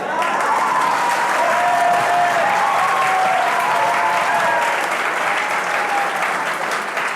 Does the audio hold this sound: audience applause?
yes